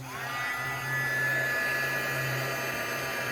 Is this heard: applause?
no